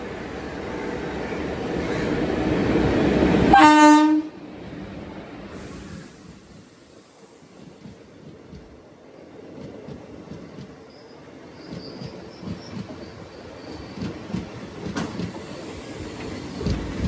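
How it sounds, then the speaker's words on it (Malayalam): Nilambur Road–Shoranur passenger train pulling in at dawn, a loud rumbling approach capped by a piercing wheel squeal that cuts off, then a quieter rolling rattle of carriages with faint birdsong. "നിലമ്പൂർ റോഡ് ഷൊർണൂർ പാസഞ്ചർ ഇപ്പോഴാണ് വരുന്നത്."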